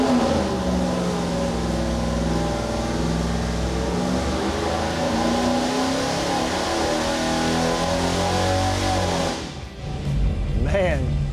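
A rebuilt Chevy 350 small block bound for a '69 Camaro roars on a dyno pull, its pitch climbing steadily for about nine seconds before it abruptly drops off and rapidly revs back down, loud and close.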